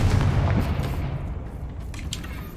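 In Hogwarts Legacy, a Confringo spell goes off as a sharp explosive blast, a single close boom that fades into a rumbling tail.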